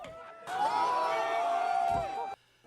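A crowd swarming a Waymo robotaxi in San Francisco as people smash its windows with skateboards: loud, sustained cheering and whooping with mixed shouting voices, swelling briefly then cutting off.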